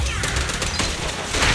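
Pistols fire in rapid dense bursts during combat in the video game Zenless Zone Zero, a loud close crackle of overlapping shots over busy game sound.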